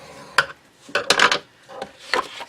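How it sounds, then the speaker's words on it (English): A scoring tool scrapes along cardstock set in a scoreboard, several short dry rubbing strokes close up with quiet pauses between. "So I'm putting the long edge of that in the top of my scoreboard. And I'm going to score it at 4¼ inches."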